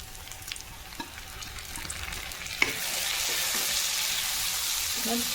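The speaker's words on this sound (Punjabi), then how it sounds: "ਦੇਖ ਲਓ ਮੈਂ ਪਿਆਜ਼ ਥੋੜਾ ਜਿਹਾ ਭੁੰਨ ਦਿੱਤਾ" Onions and tomatoes sizzle in a pan, frying steadily with soft stirring scrapes and clinks. The frying hiss swells louder partway through and holds close and continuous.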